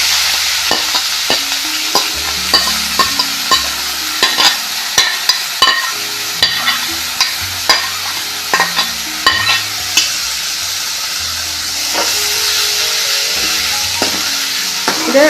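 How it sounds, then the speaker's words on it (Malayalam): Sliced onion tipped into spluttering mustard seeds in hot coconut oil, sizzling steadily while a spoon stirs with repeated clacks and scrapes against the pan, close and loud throughout. "കടുക് പൊട്ടി വരുമ്പോൾ നമ്മൾ തയ്യാറാക്കി വെച്ചിരിക്കുന്ന സവാള ഇതിലേക്ക് ചേർത്ത് കൊടുക്കാം."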